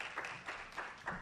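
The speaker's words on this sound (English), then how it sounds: "Give her a round of applause because she has some great information." Brief, faint applause from an audience at a Greater Kankakee Black Chamber of Commerce event, rising and falling in quick pulsing bursts.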